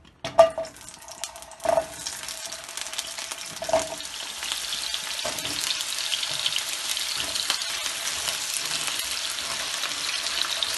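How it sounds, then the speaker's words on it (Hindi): Taro root (arbi) pieces dropped into a little leftover oil from cooking meat, setting off a steady, close sizzle that builds and holds with a few clattering bumps early on. "थोड़े से तेल में फ्राई करेंगे"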